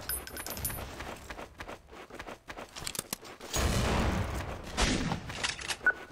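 Gunfire in Counter-Strike: Source, sparse metallic clicks and shots early on, then a louder burst of rapid firing that swells in the second half.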